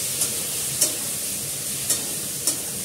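Okra and potatoes stirred in a pan over a soft steady sizzle, with four sharp utensil scrapes spaced irregularly, close and moderately loud, no voices.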